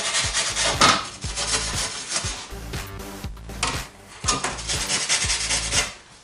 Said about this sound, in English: very light sand with some 60 grit or 80 grit, 100 grit maybe.